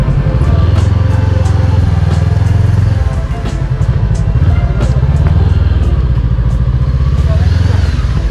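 A Honda CB500X motorcycle pulls up near the Yogyakarta leg of a Jakarta–Jogja ride for a Repsol Premium Series launch; its loud, close engine rumbles and revs throughout, easing briefly in the middle, while people talk over it.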